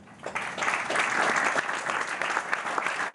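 Applause sound effect marking a correct answer in a quiz, a dense, steady burst of many hands clapping that runs loud for about three seconds and then cuts off abruptly.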